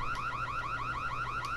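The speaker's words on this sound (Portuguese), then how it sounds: "Que disparou o alarme?" Alarm going off in The Long Reach, a rapid repeating electronic whooping tone cycling evenly several times a second over a low steady hum, with no talking.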